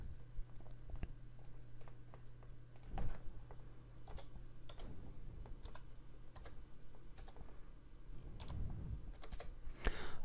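Computer keyboard keys clatter in irregular clusters of clicks, close and fairly quiet over a steady low hum, with no talking.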